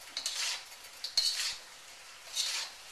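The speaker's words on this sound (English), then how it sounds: "when you're using tofu, you want to stir it gently so you don't break it up" A utensil gently scraping and clinking in a pan of beef and tofu, three soft bursts of stirring with light metallic taps, quiet and close with no voices.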